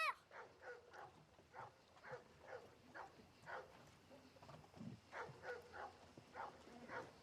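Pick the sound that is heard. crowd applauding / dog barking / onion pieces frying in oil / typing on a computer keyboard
dog barking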